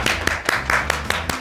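Applause after a host's call during a Korean entertainment news show, a burst of repeated sharp hand claps with a steady irregular rhythm, fairly close and moderately loud, with no talking.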